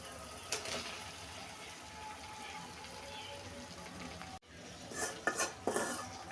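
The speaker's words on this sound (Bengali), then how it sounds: "আর একটু নেড়ে চেড়ে কষিয়ে নিচ্ছি মশলার সাথে সবজিগুলো, মানে আলু আর কপি, ফুলকপি।" Fried potato and cauliflower are stirred in a spice masala, the spoon scraping and clinking against the pan under a steady low sizzle, with a brief gap before several louder stirring strokes.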